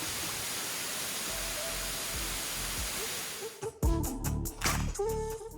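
Lulumahu Falls in Hawaii, a waterfall reached by hike, roars as steady broadband rushing water; partway through, nearby rustling and handling bumps break over the constant flow.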